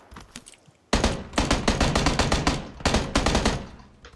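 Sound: gunfire in the video game PUBG

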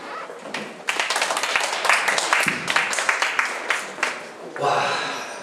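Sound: audience applause

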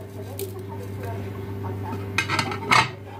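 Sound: whisking spices and ingredients for shrimp marinade in a bowl

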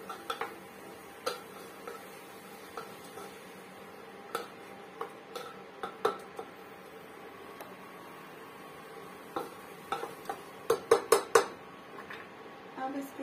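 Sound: spoon mixing ridge gourd with red chilli in a pan

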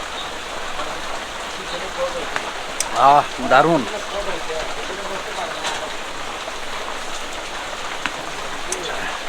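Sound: heavy rain

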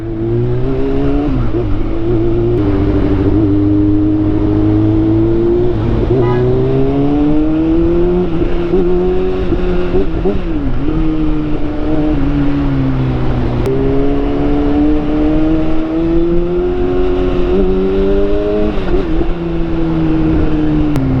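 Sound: big bike motorcycle passing in EDSA traffic

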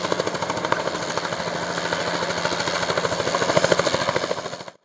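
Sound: Bell Jet Ranger helicopter flying

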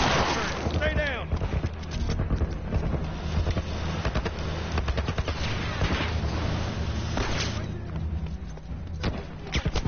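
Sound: gunfire and missile shots in the video game The Last of Us

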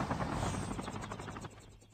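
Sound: helicopter in a video game

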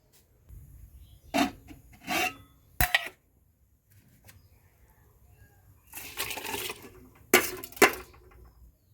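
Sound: rice grains poured into a cooking pot

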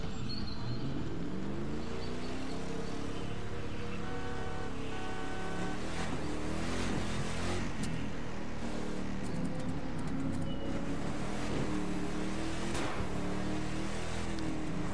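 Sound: Ford Raptor F-150 exhaust in video game The Crew 2

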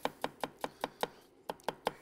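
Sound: thinly slicing vegetables with a knife

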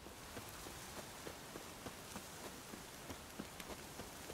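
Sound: rain falling in the video game The Witcher 3

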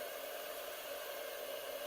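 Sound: hair dryer running

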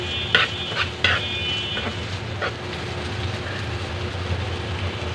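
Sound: stirring pangas fish shutki mash in a pan

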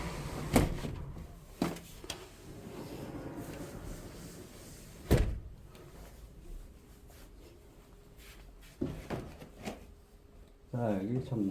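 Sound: door being closed

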